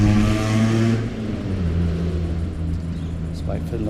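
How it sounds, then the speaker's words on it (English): A noisy car passes close by on a street during coin hunting, a steady engine rumble with revving that holds loud for several seconds, partly over faint background voices. "Let's wait for the noisy car."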